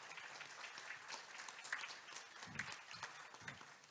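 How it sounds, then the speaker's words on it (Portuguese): An audience applauds steadily, many hands clapping in a dense, even patter that continues throughout. "Posso pedir uma salva de palmas aqui,"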